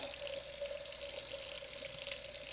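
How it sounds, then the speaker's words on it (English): Warm tap water runs steadily into a shallow bowl in a home kitchen, a constant close hiss with a faint ringing tone, on its own with no talk. "We're going to put a little bit of warm water in this shallow bowl."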